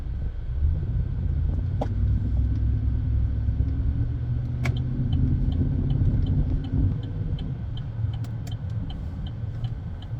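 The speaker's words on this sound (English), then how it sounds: "Right now I am on the road. I'm driving around right now." A car driving along a road, with steady close engine rumble and road noise throughout, plus a faint regular ticking like a turn signal; no one speaks.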